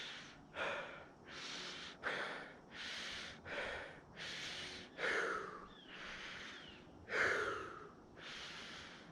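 A winded inline skater on a nature trail breathes hard after skating, with about ten loud, close gasping inhales and exhales in a steady rhythm, alone without speech.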